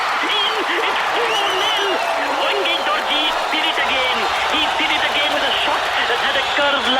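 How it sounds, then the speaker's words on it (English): A stadium crowd roars in steady, dense cheering after a goal during a football match against the Montserrat team. Scattered shouting voices rise and fall within the unbroken wall of noise. "The crowd is so happy."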